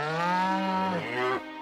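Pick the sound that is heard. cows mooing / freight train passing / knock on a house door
cows mooing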